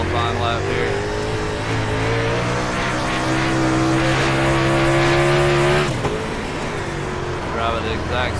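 Super late model race car at Williams Grove Speedway, engine roaring hard off the corner as the rear tires break loose and spin, a loud sustained rising drone that cuts off abruptly and then picks back up.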